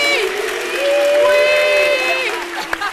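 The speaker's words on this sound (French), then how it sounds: "Merci de l'applaudir très fort." Studio audience applause on a French-language midday television show, heard briefly under tonal music and some crowd noise.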